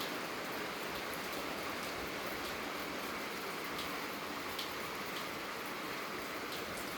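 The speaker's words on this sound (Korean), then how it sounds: "비가 많이 안 오고 딱 적당하니 기분 좋게 내리니까" Gentle rain falling steadily outdoors, a soft even hiss of drops with faint scattered patters on nearby surfaces, quiet and continuous with no voices.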